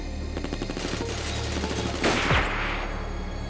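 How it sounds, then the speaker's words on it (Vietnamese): Rapid gunfire in a Hong Kong gangster film shootout, dense bursts of automatic shots layered under a loud continuous soundtrack, with a sweeping whoosh near the end. "Phán đoán theo tiếng súng, bọn chúng không có nhiều người."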